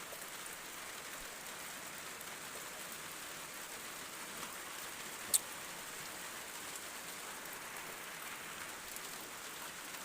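Steady rain falls in a garden, an even, soft hiss of drops throughout with a single sharp tap near the middle and no voices.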